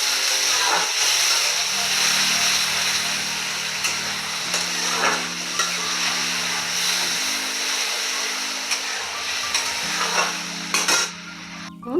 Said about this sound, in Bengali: আমি গুলে রাখা হলুদ আর লঙ্কা গুঁড়োটা দিয়ে দিচ্ছি। একটু ভেজে নেব ভালো করে